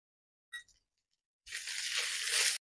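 Grated coconut fries in hot oil, a short clink near the start followed by a steady, bright sizzle that holds for about a second before stopping.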